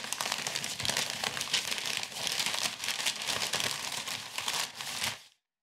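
Eco-friendly paper packing material scrunched up by hand, a loud, close, continuous crinkling and crumpling with rapid crackles for about five seconds before stopping abruptly.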